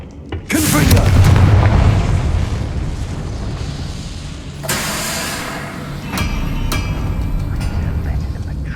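A Confringo fire spell from Hogwarts Legacy bursts with a loud, rumbling boom, followed by a sustained fiery roar and a second, softer whoosh midway, with a few sharp crackles near the end.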